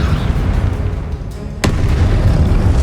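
A single sharp Confringo spell blast from Hogwarts Legacy, a loud sudden crack-boom cutting through a steady rumbling background, then the low roar carries on.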